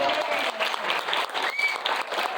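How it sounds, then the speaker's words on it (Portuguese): Audience applause at a financial planning tour event in Brasília, a dense burst of clapping from a seated crowd, moderately loud and continuous over the short stretch. "Palmas para a Silvia mais uma vez."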